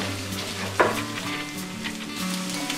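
Beaten eggs sizzling steadily in a hot pan for egg fried rice, with a light clink of a utensil early on, close and alone.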